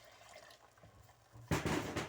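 Water pours into a pot of besan mixture for Punjabi kadhi, starting suddenly after a quiet stretch and running loud and close for the final half second.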